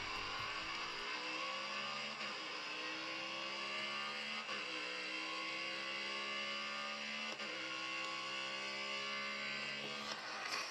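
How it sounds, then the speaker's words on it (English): A race car engine in the Grid Autosport racing game on an iPhone climbs steadily through the revs, shifting up gear every couple of seconds, loud and continuous. "Grid Autosport is probably the best racing simulator on your iPhone."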